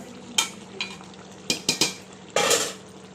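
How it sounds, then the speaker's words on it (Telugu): Egg and drumstick curry with brinjal is stirred in a pan, a handful of separate spoon scrapes and clinks over a faint low simmer, each stroke short and close. "గుడ్లు చిదిగిపోకుండా మంచిగా ఇట్లా కలుపుకోండి."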